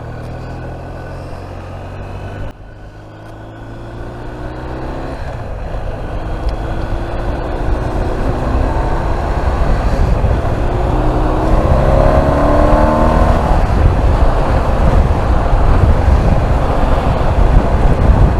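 A motorcycle ridden at about 70 mph up a slip road, its engine drone rising steadily as it accelerates, buried under loud, constant wind rush across the microphone.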